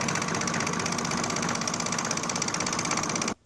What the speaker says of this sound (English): you'll just serge that edge